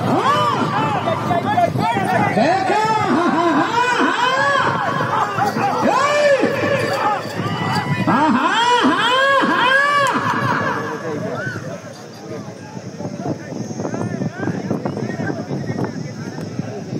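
Loud crowd shouting and cheering at a bull competition in a village in Anantapur district, a dense wall of overlapping voices that stays steady, then thins slightly toward the end with a faint high whistle-like tone.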